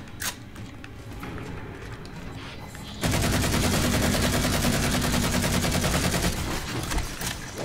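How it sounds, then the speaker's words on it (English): Assault rifle in Halo 4 opening up in a long, continuous burst of rapid automatic fire, loud and steady after a quieter stretch of game noise. "Oh, this is the assault rifle."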